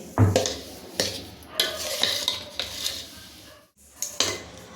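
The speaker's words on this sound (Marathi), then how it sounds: "ही साखर मी या पिठामध्ये अशी व्यवस्थित मिक्स करून घेते" Sugar is stirred into besan flour in a deep bowl, giving repeated scraping and clinking strokes of a spoon against the bowl in an irregular rhythm, close and moderately loud, with no talk.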